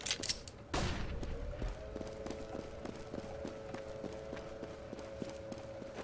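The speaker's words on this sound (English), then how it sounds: "This is how a flashbang should look like. Throwing a flashbang." A flashbang grenade thrown during a Counter-Strike: Global Offensive match goes off in one sharp, loud burst, followed by a sustained ringing tone with rhythmic footstep-like ticks running beneath it to the end.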